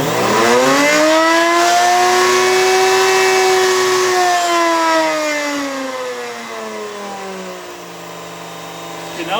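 A router running on a router table, set for a large raised-panel bit, spins down from a loud high whine to a lower steady hum as its speed is dialed back to 10,000 RPM.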